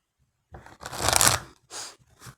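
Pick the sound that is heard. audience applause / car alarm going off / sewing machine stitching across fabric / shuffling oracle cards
shuffling oracle cards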